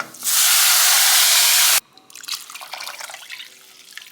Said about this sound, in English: you're gonna go ahead and start adding your water, and you're gonna see the steam release